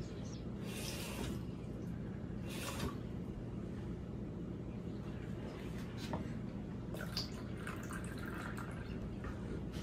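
Cold water pours in short bursts into a jello mix, with splashy pouring sounds separated by quieter gaps, close by.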